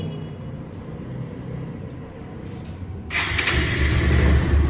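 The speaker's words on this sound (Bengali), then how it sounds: "এক পে স্টার্ট পায় এক পে স্টার্ট" A 2021 Bajaj Pulsar motorcycle engine cranks and catches about three seconds in, then a loud, steady mid-pitched running roar continues over a low rumble.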